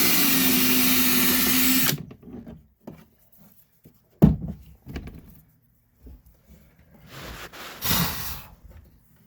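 A power drill bores holes for lights on a 1992 Sea Ray Sundancer 230 boat, a loud continuous whir for about two seconds that then stops, followed by scattered handling knocks and a couple of short bursts.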